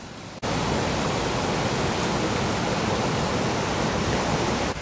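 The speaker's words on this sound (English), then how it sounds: "We decide to have a break at the side of the waterfall." Steady roar of a waterfall pouring over an old weir on the River Derwent in a North Yorkshire wood, a dense broadband rush that cuts in abruptly after a brief quiet start and holds loud and constant.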